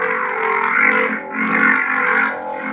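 Sabertrio Vektra Neopixel lightsaber giving off a menacing, muffled buzzing hum, steady and close with slow swells in intensity, heard alone.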